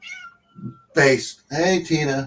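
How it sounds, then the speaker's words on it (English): A cat meows several times outside an open window, close and clear, between short bits of a man's speech. "that's my cat's outside."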